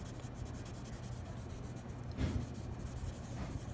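Soft, continuous scratchy rubbing of a blending stump dragged lightly across pencil shading on drawing paper, close and faint, with one slightly louder stroke midway.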